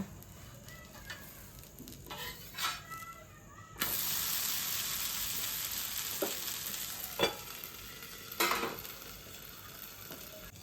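Navadhanya (nine-grain) adai frying on a pan and being flipped: a steady, close sizzle that swells loudly partway through, broken by a few sharp spatula clacks and scrapes.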